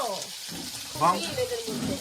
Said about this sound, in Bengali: খাওয়ার আগে গরম গরম ভাজা হচ্ছে